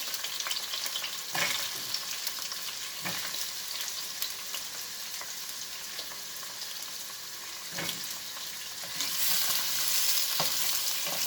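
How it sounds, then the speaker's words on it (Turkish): Oil sizzles steadily as zucchini fries in a pan, with occasional scraping stirs and a brief louder surge of sizzling near the end. "Önce kabaklarımızı kızartıyoruz."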